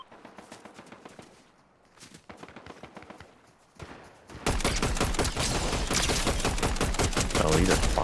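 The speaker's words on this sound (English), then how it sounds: "are you running towards gunfire?" Sustained gunfire in a video game shooter, rapid bursts building to dense, continuous fusillade in the second half after quieter scattered shots and movement sounds.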